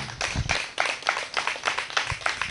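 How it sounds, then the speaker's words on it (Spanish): Scattered clapping from a small church congregation praising God, a few distinct claps in a loose, uneven rhythm, moderately close and fairly quiet. "Denle un aplauso al Eterno."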